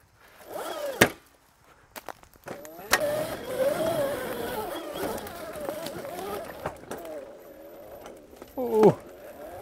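An Oset MX10 electric motocross pitbike ridden over jumps and a dirt track, its motor whine rising and falling steadily with loud impact thumps on landings and occasional voice sounds.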